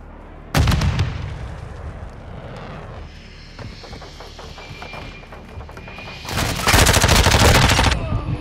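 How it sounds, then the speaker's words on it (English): Two loud, sustained bursts of rapid automatic gunfire in the Modern Warfare 2 video game, separated by a quieter stretch of rattling fire and distant combat noise. "Taking enemy fire. We're getting hit hard."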